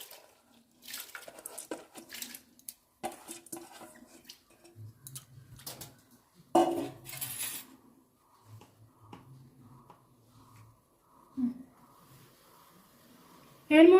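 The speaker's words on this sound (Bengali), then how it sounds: "এখন আমি ডালগুলো দিয়ে দিচ্ছি।" Washed lentils are tipped into a pan of water, making a run of small close clicks, taps and light splashes against the metal, followed by a few scattered knocks.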